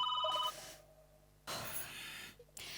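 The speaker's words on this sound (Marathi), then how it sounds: "फोनची रिंग" A telephone ringing in a comedy sketch scene, with a bright electronic ring tone sounding briefly at the start and again in short bursts later, under quiet room tone.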